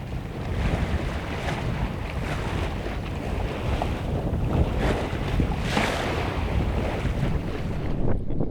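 The sailboat Tarka moves through the ocean in good sailing conditions, with a constant rush of water and waves along the hull and strong wind buffeting the microphone, steady and loud throughout.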